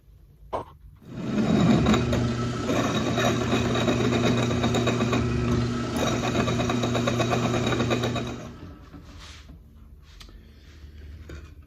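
An electric drill boring holes through a steel bumper bracket with progressively larger bits, a steady loud whirring grind running for about seven seconds before stopping, with no talk over it.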